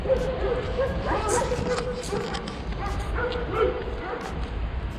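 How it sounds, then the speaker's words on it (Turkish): Dogs bark and yip repeatedly at a moderate distance along an outdoor route during the İDA Ultra Trail 15K run in 2021, with a steady hubbub of voices and background noise throughout. "Çılgınca köpek var."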